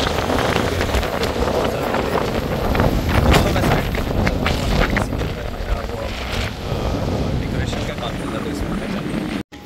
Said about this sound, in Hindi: हवा बहुत तेज़ चल रही है, बेइंतहा तेज़ चल रही है, शायद आपको आवाज़ भी आ रही है